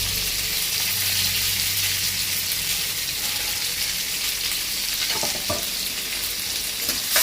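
Chopped onion and curry leaves sauté in hot oil with a dense, continuous sizzle and crackle, close and loud throughout, with soft stirring sounds near the end and no one talking.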